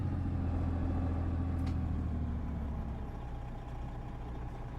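Steady low diesel drone of a truck engine from the stock SCS sound set in American Truck Simulator, a Zeemods-engined truck hauling a log loader, constant and close with a faint hiss, slowly easing off.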